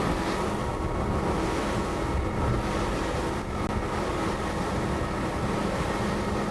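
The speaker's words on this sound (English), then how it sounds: "There's a bit of sound that gets trapped from those outboards, courtesy of these forward mouldings" The outboard engines of a Galeon 325 GTO day boat roar steadily and loudly while underway. The noise forms a dense, constant wash with no pauses.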